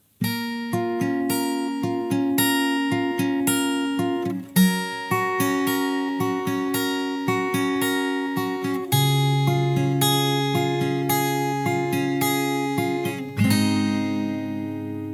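A guitar plays the opening part of a song, a steady run of plucked notes and chords with a regular rhythm, ringing close and clear for about fifteen seconds, ending on a struck chord, with no voice.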